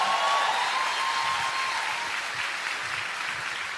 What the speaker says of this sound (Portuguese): Dá salva de palmas para Jesus.